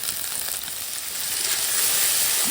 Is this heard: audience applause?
no